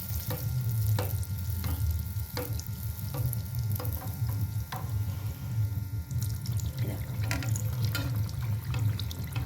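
Malpoa, a Bengali sweet pancake, frying in a pan of hot oil as oil is spooned over it. A steady, close, fairly loud sizzle and bubbling runs throughout, with occasional light clinks of a utensil.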